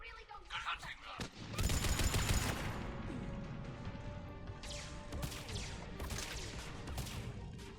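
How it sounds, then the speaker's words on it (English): Sustained gunfire in the sci-fi shooter Mass Effect 3 during a Geth battle: a dense burst of shots erupts after a quieter opening and continues as a loud, steady barrage of rapid cracks, with voices briefly heard. "Who the hell's firing at me?"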